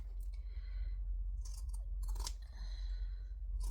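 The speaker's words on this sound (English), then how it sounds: "I just find with zigzag scissors it works a bit better for me." Several crisp snips of zigzag scissors cutting through fabric, close by, in irregular bursts with short pauses between, otherwise quiet.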